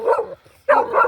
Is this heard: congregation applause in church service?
no